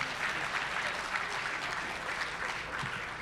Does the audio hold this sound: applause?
yes